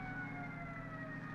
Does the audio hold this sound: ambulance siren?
yes